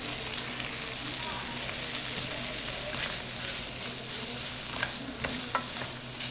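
Shrimp frying in a hot pan while pad thai is being cooked, a steady close sizzle with stirring scrapes and a few sharper clicks of the utensil against the pan.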